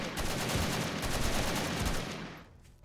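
Rapid automatic gunfire from a weak gun in the video game 7 Days To Die, a dense, loud burst of shots running for about two seconds before cutting off.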